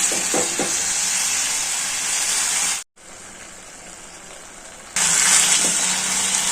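Bitter gourd curry fries with asafoetida and chili in a pan, giving a loud, steady sizzle with a brief cut to silence near the middle before the crackle returns even stronger.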